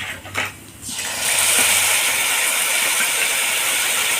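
A paste of cumin, ginger and green chilli hits hot oil in a pan where potatoes have been fried, setting off a loud, sustained sizzle that jumps up about a second in and hisses steadily to the end.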